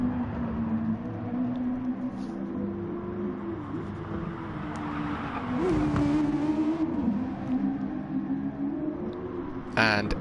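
Toyota FT1 race car in a racing game on the Nürburgring heading toward the RTL curves, its engine droning steadily with pitch shifts through gear changes and a brief louder surge near the end.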